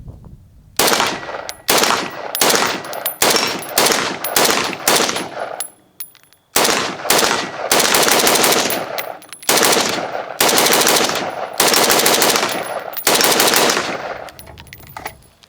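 A SIG SG550 5.56mm rifle fires in long, rapid strings of very loud, close shots. One brief pause breaks the firing partway through, then the bursts resume almost continuously, with no talking.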